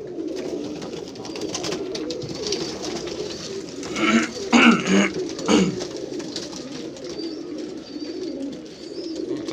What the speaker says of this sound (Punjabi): ਜੀਰਾ ਕਬੂਤਰ ਲਾਲ ਅੱਖ ਦਾ।